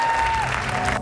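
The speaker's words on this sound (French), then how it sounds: "On applaudit le Seigneur, come on!" A church congregation applauds during a faith-healing service, a short burst of steady clapping with a faint tone running underneath.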